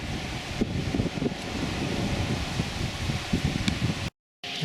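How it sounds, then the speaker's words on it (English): Gusting outdoor wind buffets the microphone around a homemade windmill rigged with copper windings, a steady broadband rush with rustling surges, briefly cut by a moment of silence near the end. "Getting some wind gusts."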